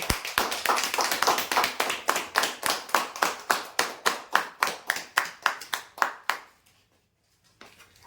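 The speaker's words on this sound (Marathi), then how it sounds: "जोरदार टाळ्या होऊ द्यायचे" Loud, sustained clapping from an audience greeting the final lucky draw winners at a weekly draw event, a dense round that breaks into steady rhythmic claps before stopping, with a faint sound after a pause.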